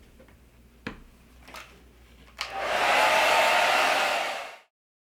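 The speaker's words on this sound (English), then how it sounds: "So I use a hairdryer." After a few soft clicks and taps, a hair dryer switches on and blows steadily on pre-leather-hard clay pieces, a loud close whooshing roar lasting about two seconds before cutting off.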